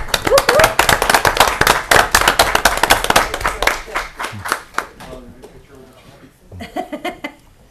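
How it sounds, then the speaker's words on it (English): Applause at a council meeting, loud close clapping from a modest group, sharp and uneven, fading out after a few seconds as voices take over. "just take a quick applause for Mr. Michael"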